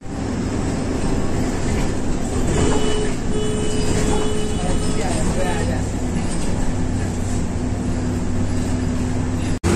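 A city bus in Delhi rumbles along with a loud, constant engine and road roar, rattling and clattering throughout, with voices talking faintly beneath the noise.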